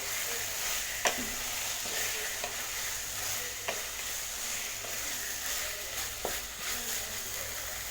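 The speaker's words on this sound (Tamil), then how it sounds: "இந்த மாதிரி எண்ணெயிலே காய் வதக்கும் போது காய் சீக்கிரம் வெந்துடும்" Vegetables sautéing in oil for a black chickpea curry give a low, continuous sizzle, broken by a few sharp clicks of a spoon against the pan; nobody speaks.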